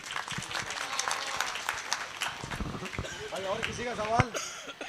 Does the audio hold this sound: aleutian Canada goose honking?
no